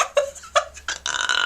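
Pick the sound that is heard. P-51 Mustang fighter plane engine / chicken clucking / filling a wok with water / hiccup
hiccup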